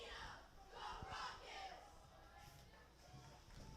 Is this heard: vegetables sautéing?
no